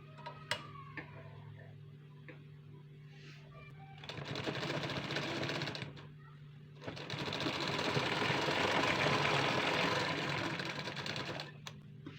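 A sewing machine runs stitching along a folded hook strip on a garment front in two steady, dense bursts, the first about two seconds and the second longer, separated by a brief pause and preceded by light ticking handling sounds.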